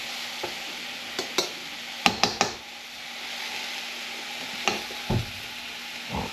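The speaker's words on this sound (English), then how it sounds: "We'll let those saute for a second." Onions softening in a pan for goulash, a steady quiet sizzle with occasional clicks and knocks of a utensil stirring, close by and with no talk.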